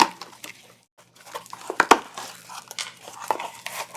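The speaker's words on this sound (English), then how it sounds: "Let's cut open and see what decks I have got in today" Cardboard box holding tarot decks being cut open up close, irregular crinkling, tearing and scraping with a few sharp snaps, loud and busy after a brief pause.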